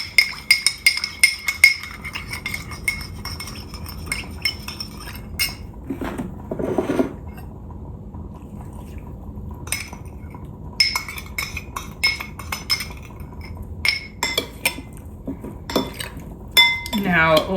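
Metal utensils clink and scrape against a bowl while cilantro dressing is stirred for cucumbers, rapid close rattling bursts with quieter pauses and a brief murmur of voice between them.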